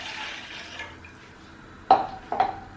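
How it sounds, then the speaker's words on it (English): Water trickles into a cooking pot for sweet corn soup, soft at first, then two sharper close splashes and knocks near the end, with no talk. "Add some water."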